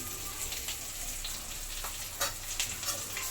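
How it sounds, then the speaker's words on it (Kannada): Garlic, ginger, cinnamon, cloves and green chillies fry in a pan for paneer butter masala, making a steady close sizzle with a few sharper stirring clinks near the end. "ಫ್ರೈ ಮಾಡ್ಕೊಳ್ಳೋಣ. ನೀಟಾಗಿ ಫ್ರೈ ಮಾಡ್ಕೊಳ್ಳೋಣ."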